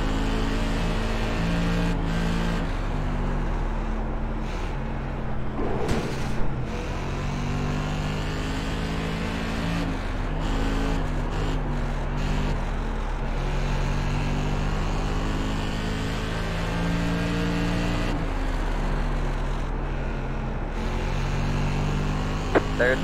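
Modified race cars circle a track during the final lap of a race, their engines droning steadily and loudly throughout with shifting pitch as cars pass.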